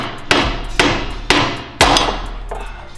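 Hammer blows knocking a pry bar into the spindle of a Ford Focus ST: four sharp metallic strikes at uneven intervals, close up with ringing decay, with a fifth lighter tap near the end.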